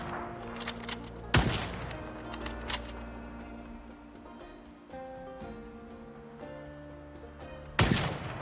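Gunshots fired at zombies in the video game Project Zomboid, a few sharp loud bangs spaced seconds apart over a musical background, with softer thuds between them.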